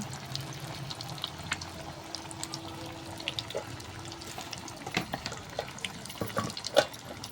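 Pakoras dropped into hot oil fry with a soft, steady sizzle and scattered sharp crackles and pops, close by and fairly quiet, growing a little busier toward the end.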